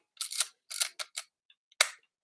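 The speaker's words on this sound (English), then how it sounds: "But the shutter works, but I've never fired a frame with it." A mechanical Nikon film camera is worked by hand, giving several crisp, close mechanical clicks and snaps of the shutter and advance in an otherwise silent room.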